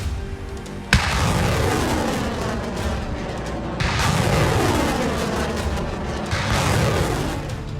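Heavy booms roll out from a Russian ammunition depot exploding near the village of Azovsky in Crimea, with several deep blasts a few seconds apart amid a continuous rumbling roar.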